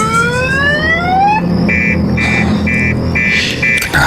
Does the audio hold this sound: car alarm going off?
yes